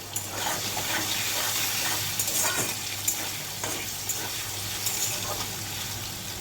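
Potatoes frying in hot oil in a pan, a loud, even sizzle with a few light taps and stirring clinks from the spatula, close up and continuous with no talk.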